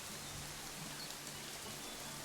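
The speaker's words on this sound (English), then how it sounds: "Oh, of course, it's raining." Steady rain falls in the Planet Zoo video game, a soft continuous hiss of drops spread evenly with no talk over it.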